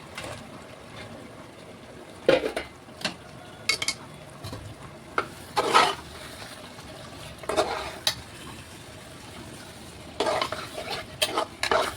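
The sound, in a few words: potatoes frying and being stirred in a pan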